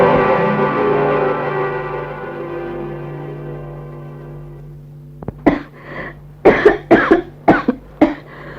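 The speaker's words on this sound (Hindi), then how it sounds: "माँ, आज तो तुम्हें बहुत तेज खांसी हो रही है।" A mother in a Karachi radio drama coughs heavily in a series of loud, harsh bursts near the end, following a sustained musical drone that fades out; no talking.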